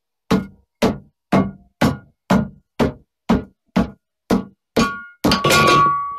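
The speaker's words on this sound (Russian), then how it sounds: "Берете молоток." Hammer striking a wheel rim while removing a tube-type tyre, about eleven evenly spaced sharp metallic knocks, close and loud, ending in a ringing clatter.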